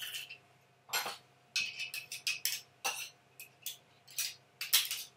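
Two garlic cloves being crushed into a vegetable bean burger mix, heard as a series of sharp metal-on-bowl clinks and scrapes in irregular bursts, close and clear over a quiet kitchen background.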